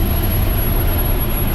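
Jet engines mounted on a Tesla car, running on two engines with one flamed out while climbing uphill at about sixty miles per hour, give a loud, steady, dense roar close by.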